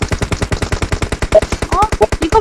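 Rapid automatic gunfire in a video game, a dense close burst of evenly spaced shots running the whole time, with brief game tones and effects mixed in near the end.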